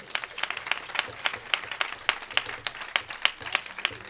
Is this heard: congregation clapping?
yes